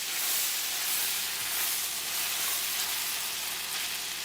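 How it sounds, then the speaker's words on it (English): Cream cheese softening and cooking down in a hot pan gives a steady, even sizzle and hiss, close and continuous with no breaks. "put my cream cheese in the mixture and let it start cooking down and getting soft"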